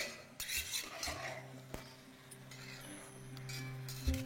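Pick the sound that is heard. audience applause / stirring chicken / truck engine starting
stirring chicken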